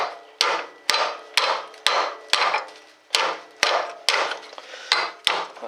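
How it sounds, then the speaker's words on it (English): A hammer strikes a sway bar link nut about eleven times in a steady rhythm, each sharp metallic blow close and loud with a short ringing decay and no talk. "Now let me grab my hammer. Hit this a couple times."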